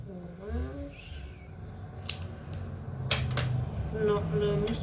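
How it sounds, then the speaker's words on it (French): Orange craft scissors snipping scrap paper in a few short, close cuts. Someone talks quietly in French over the cutting. "Ciseaux"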